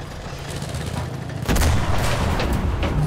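Gunfire in the Enlisted World War II shooter during the Battle of Berlin, with a heavy booming shot at close range standing out over a steady rumble of distant battle and scattered firing.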